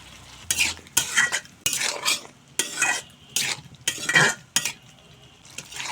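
Potatoes being stirred and fried with spices in a pan for egg and potato chorchori, with repeated scraping strokes of a spatula against the metal over a light sizzle, rhythmic and close, no talking.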